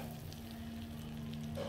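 Flour roasting in melted butter for a white sauce gives a soft, steady, faint sizzle close by, with no talk.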